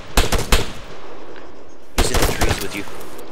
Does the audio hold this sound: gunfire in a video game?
yes